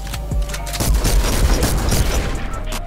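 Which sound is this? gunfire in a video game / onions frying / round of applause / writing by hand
gunfire in a video game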